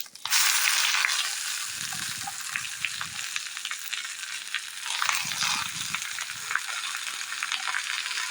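Moringa leaves hit a hot pan for a Kerala thoran and set off a loud, steady sizzle. Two bursts of stirring scrape through the frying, with no talking.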